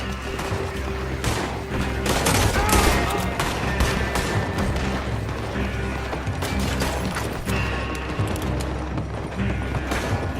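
Dense gunfire in Red Dead Redemption 2 during an escape shootout: rapid, overlapping shots and sharp cracks crowd the whole stretch at a steady, loud level, with mechanical clicks and rattles mixed in.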